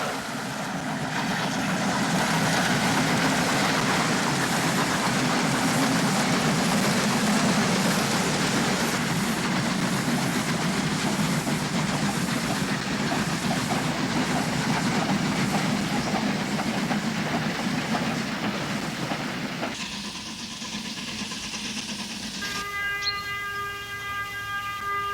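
Heavy double-headed RENFE steam passenger trains in Spain rumble past steadily for a long stretch, wheels clattering on the rails, before the noise eases and a tonal horn-like hum takes over near the end.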